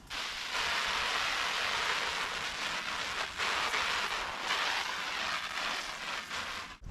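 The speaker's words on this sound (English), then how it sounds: "Just stood squirting water on a tent" Steady hiss of water sprayed onto a tent's fabric, a dense rain-like patter that continues with only brief dips in intensity.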